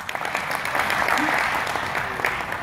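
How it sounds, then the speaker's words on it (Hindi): An audience claps together at a motor dealers meet in Delhi, a dense, steady burst of applause from a large room that holds its level for a few seconds. "तालियां."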